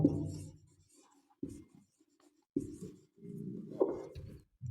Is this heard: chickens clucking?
no